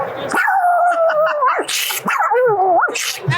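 A human voice imitates a pug barking, giving loud, close, nasal yapping yelps in two drawn-out bursts with wavering pitch and snorting breaks between them.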